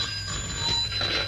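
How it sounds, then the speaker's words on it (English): A doorbell rings at a house door, a bright, steady electric ringing that carries through the whole short moment, fairly loud, with no voices over it. "Tell them to go to hell and stop ringing our bell."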